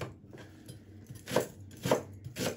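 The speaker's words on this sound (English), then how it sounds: "all I'm doing here is cutting and chopping up an onion" A knife chops an onion on a board with three or four distinct, fairly close cuts, spaced unevenly, with quiet kitchen background and no talk.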